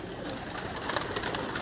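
Pigeons cooing on a rooftop, soft repeated coos close by over a light background hum, no talking.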